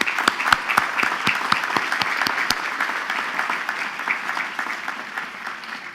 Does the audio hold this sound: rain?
no